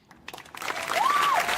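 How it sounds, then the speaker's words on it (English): A brief round of applause from a small group, rising over a second or so, with a short tonal sweep sounding over the clapping. "he gave himself a round of applause for that"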